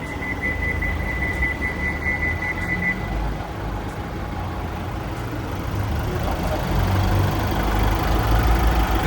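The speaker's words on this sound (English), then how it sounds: "Now the engine's nice and quiet" The engine of a used four-year-old pickup truck idles in a steady low rumble, with a brief high electronic beeping tone early on and no talking.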